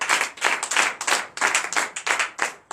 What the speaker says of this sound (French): Ça demande l'applaudissement.